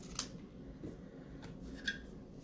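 Scissors snipping through paper during a colorful craft project, a few quiet separate cuts close by with nothing else around them.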